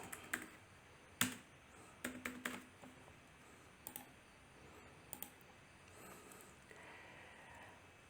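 A computer keyboard clacks as a username and password are entered into a notary accounting app login form, with scattered quiet keystrokes and a few quick bursts of typing, near and soft, in a calm room without speech.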